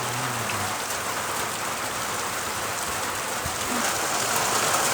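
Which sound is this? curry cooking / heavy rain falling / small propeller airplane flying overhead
heavy rain falling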